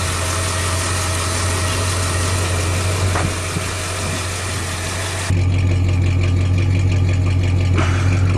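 A 1935 Mercedes replica car engine idles steadily and loudly up close, a constant low drone with smooth, even running and no ticking, shifting slightly in tone partway through.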